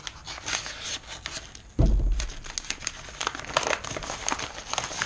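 Crinkly plastic packaging holding custom fishing baits is cut open, with a sharp thunk followed by repeated close crackling and crumpling sounds of the wrapper being handled.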